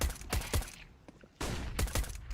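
Pistol gunfire during an SG.PRO versus CR4ZY competitive shooter match: several sharp, loud shots in two quick clusters, a pair early on and another burst after a brief lull, close and without talk.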